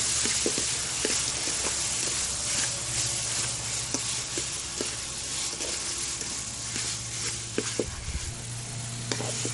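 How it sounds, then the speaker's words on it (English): Curry ingredients stirred together in a pan for a green curry, a steady close sizzle with repeated light scraping and tapping strokes throughout, no talk. "just stir all these together"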